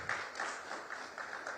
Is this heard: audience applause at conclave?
yes